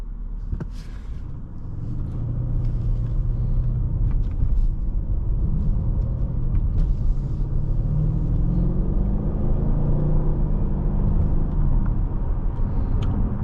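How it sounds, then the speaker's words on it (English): A 2017 Mercedes-Benz CLS 550's engine rumbles steadily and rises in pitch as it picks up speed, with continuous road noise and no talking. "this acceleration is very smooth, very effortless"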